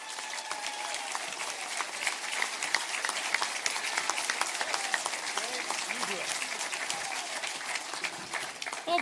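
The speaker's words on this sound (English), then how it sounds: "can we just have a round of applause for the Premier?" Town hall audience in Lethbridge applauding Premier Smith: a dense, steady wash of many hands clapping at close range, sustained evenly for the whole stretch with a slight swell at the end.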